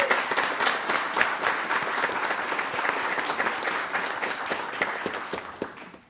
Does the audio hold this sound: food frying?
no